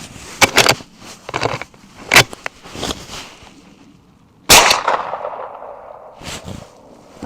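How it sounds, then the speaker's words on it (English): A suppressed .45-70 rifle fires a single sharp shot freehand from standing, with a loud close report and a short decaying tail, preceded by clicks and handling of the rifle and with no talking. "I am going to shoot it freehand"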